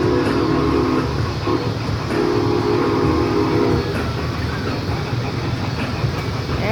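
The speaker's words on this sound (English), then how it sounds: "here comes the train" A steam train at the Worlds of Fun amusement park rumbles loudly nearby with a steady mechanical roar and a sustained horn-like tone that stops partway through.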